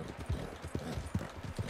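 In a Western video game, a horse gallops along a road, its hooves beating in a quick, even rhythm of muffled thuds at moderate level, with no voices heard over it.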